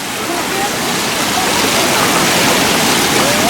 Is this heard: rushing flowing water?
yes